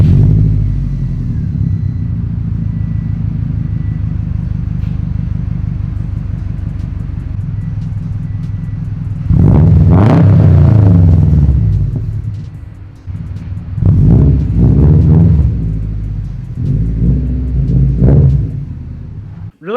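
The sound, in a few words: Subaru WRX STI engine started and running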